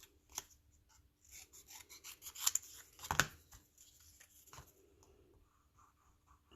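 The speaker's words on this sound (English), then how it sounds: "I'm just trimming a piece of white here so I can glue it on the back" Scissors trimming a piece of white cardstock for a stamped card, with soft, irregular snips and paper rustles, one sharper cut near the middle, quiet and close with no speech.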